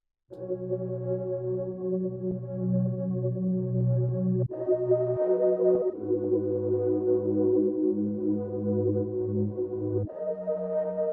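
Layered sustained synth chords play in a steady progression, each held for several seconds before shifting to the next chord.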